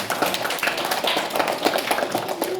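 Primary school class of third graders clapping for their teacher during a classroom contest, a brisk uneven patter of many small hands, fairly close, with faint voices mixed in.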